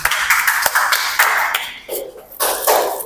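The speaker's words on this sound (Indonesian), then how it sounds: "tepuk tangan untuk kita semua" Students in a classroom applaud at the end of a microteaching lesson, a short patter of scattered clapping with sharp taps, close and fairly loud, without speech.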